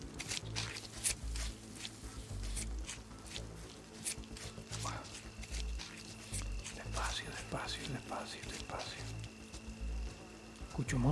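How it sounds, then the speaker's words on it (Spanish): A fly buzzes in and out over a low DayZ game soundtrack, with a person talking quietly in between. "Mosca."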